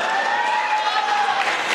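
Audience applause at an all-India poetry mushaira in Nanded, a steady, dense wash of clapping from a crowd that holds evenly at fairly close range for under two seconds.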